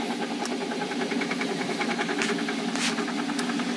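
Wood being turned on a metal lathe with a carbide bit under auto feed, giving a steady mechanical hum and whirr with faint cutting texture and occasional brief clicks.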